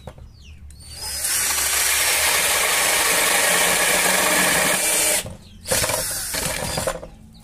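An electric drill bores into a wardrobe door, a loud high whir starting after a second and holding steady, cutting out briefly near five seconds, then revving up again with a rougher, stuttering tail.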